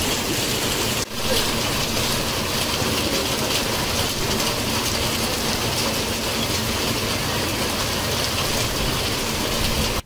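Heavy cyclone-driven rain pouring down in the Satyavedu area, a dense, loud, unbroken hiss and roar that fills the whole clip.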